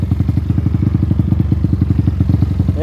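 A new Honda Titan motorcycle engine runs steadily and close, its rapid, even low thumping pulses continuing without a break and with no voices.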